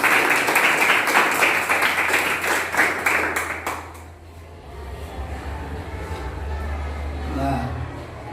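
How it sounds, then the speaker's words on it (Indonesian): A class gives a group presentation a round of lively applause, filling the room for about four seconds before fading into quieter murmuring and a low hum. "Yuk, aplaus lagi."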